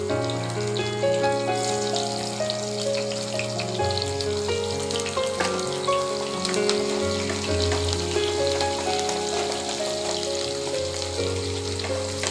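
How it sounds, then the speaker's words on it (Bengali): Chopped onions and nigella seeds fry in hot oil for a telpotol dish, a steady close sizzle lasting throughout, with tonal background music playing over it. "পেঁয়াজটা আমি হালকা আছে লাল লাল করে ভেজে নেব।"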